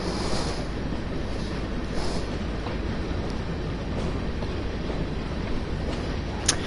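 Steady rumbling train noise from a locomotive in Train Sim World 2, Tees Valley, a continuous even drone with faint rhythmic rail clatter throughout, no voices.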